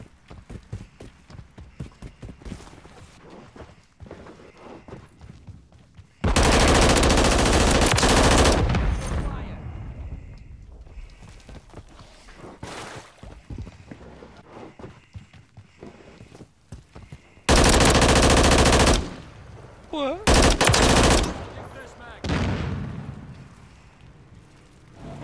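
Rapid automatic fire from a Bal-27 rifle in Call of Duty MWIII, heard as three loud sustained bursts, the first about two seconds long and the later two shorter, separated by quieter game ambience.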